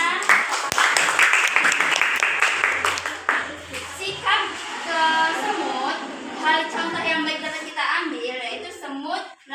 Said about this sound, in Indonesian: beri tepuk tangan dulu dong ke temennya